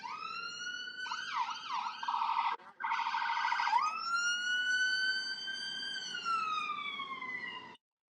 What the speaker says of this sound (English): the ambulance is coming. It's here.